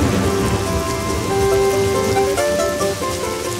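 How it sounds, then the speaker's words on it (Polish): Cartoon rain falls steadily outside a window, a soft continuous patter under light tonal background music, with no speech. "miło jest przez okno patrzeć na deszcz."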